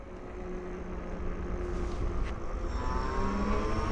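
A DIY two-wheel-drive fat-tire e-bike with two motors accelerates at full throttle, its motor whine and rolling tire noise building steadily over outdoor wind rumble, with no talking.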